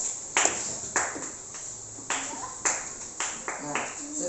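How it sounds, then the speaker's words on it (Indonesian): Pupils in a primary-school class clap their hands for a classmate, a series of about eight sharp claps in an uneven rhythm, close and fairly loud, with a voice speaking underneath. "Oke, beri tepuk tangan untuk Rohana"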